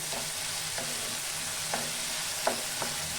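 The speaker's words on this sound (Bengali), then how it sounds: "টমেটোর পেস্টটা আমি ভালো করে ভেজে নেব।" Tomato paste frying with ginger, garlic and onion in a pan, a loud continuous sizzle broken by a few soft spatula scrapes spaced irregularly through it.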